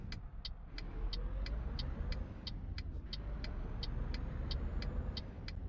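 A truck engine drones steadily while driving on the autobahn at night in Euro Truck Simulator, a low continuous rumble with a faint regular ticking over it.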